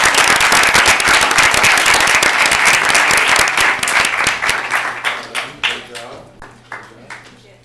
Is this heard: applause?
yes